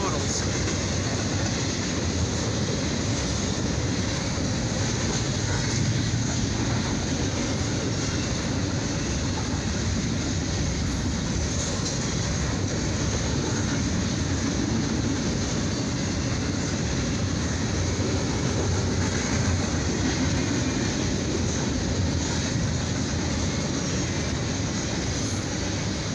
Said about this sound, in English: This is an Intermodals train, or known as a stack train.